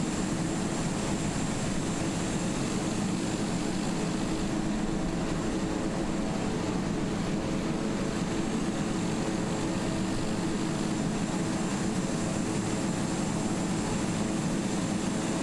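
An ATR 72-600 turboprop airliner in Microsoft Flight Simulator 2020 gives a constant, even propeller and engine drone that stays steady with no breaks or voices.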